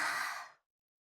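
A video game character lets out a loud, breathy yawn that swells and trails off into silence within about half a second.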